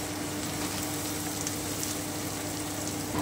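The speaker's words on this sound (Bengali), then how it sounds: "এবারে আমি কুচনো পেঁয়াজটা দিয়ে দিচ্ছি, আমি খুব ভালো করে একটু ভেজে নিচ্ছি।" Chopped onion frying in a pan over low heat, a steady soft sizzle and crackle that continues evenly throughout, fairly quiet, with no one talking.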